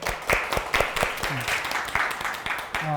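An audience at an indoor community forum claps, with a burst of scattered, fairly close hand claps that carries on for a few seconds, while a voice briefly speaks over it.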